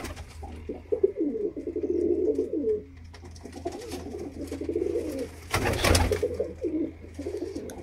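Black-faced Sialkoti pigeons coo in repeated soft, throaty rolling phrases close by, with a brief burst of wing flapping near the end and faint background noise.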